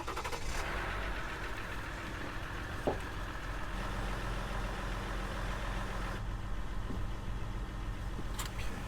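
A car with a pinched brake line idles with a steady low rumble and faint knocking, continuous throughout with a few small clicks.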